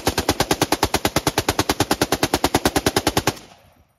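Rapid automatic gunfire: a sustained burst of about thirty evenly spaced shots, loud and close, stopping abruptly at the end with a short fading tail and no talking.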